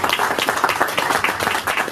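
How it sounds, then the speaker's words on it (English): Audience applause at the official launch of a meter asset provider program, a steady crowd of many hands clapping continuously and evenly throughout, moderately loud with no talk over it. "I thought you would give a bigger round of applause"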